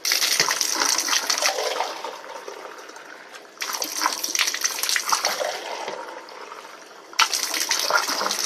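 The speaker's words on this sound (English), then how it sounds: "I'm going to rinse out my tub really quick with some hot water." Hot water runs from a tap into a tub being rinsed, a continuous splashing gush close by that stops briefly twice and restarts.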